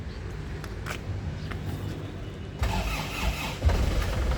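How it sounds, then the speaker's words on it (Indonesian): A 2012 Toyota GT, its engine still cold, cranks and catches, then settles into a steady mid-pitched idle, recorded close by with a brief thump near the end. "Sekarang kita nyalakan mesinnya."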